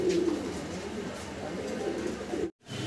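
Colored gola pigeons coo in repeated low throaty calls close by, with a low background hum and a brief dropout near the end.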